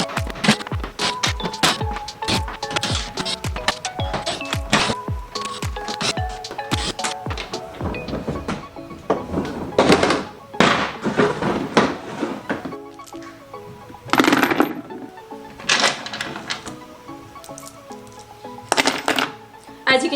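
A T30 Torx bit backs out screws from a Toyota Tacoma tailgate, giving a long run of close, quick metallic clicks and scrapes with brief pauses between screws.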